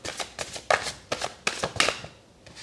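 Cartomancy cards being shuffled and drawn close up, with a series of quick papery riffles and slaps in uneven bursts and no talking.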